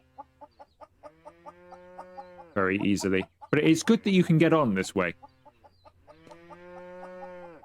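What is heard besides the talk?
chicken clucking in farming simulator video game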